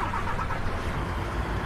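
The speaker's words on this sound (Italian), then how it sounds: "Abbiamo in servizio il DAF 95, che tra l'altro farà rumore da qua se lo accendo" DAF 95 truck engine in Euro Truck Simulator 2 starting and settling into a low, steady rumble, heard alone and fairly quiet for under two seconds.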